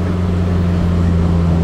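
A Proton Wira GSR engine held at high revs near redline, a steady, loud droning hum with a strong low tonal note that stays constant throughout, with no voices.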